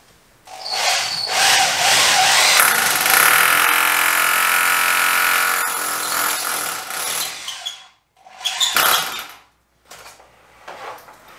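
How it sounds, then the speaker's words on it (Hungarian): A power drill bores a 12 mm hole into a wall for mounting an Ariston VLS water heater, a loud steady grinding whine for about seven seconds, then two short bursts as the bit is worked again. "és akkor készítünk 2 darab furatot"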